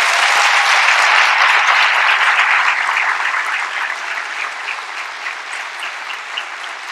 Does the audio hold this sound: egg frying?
no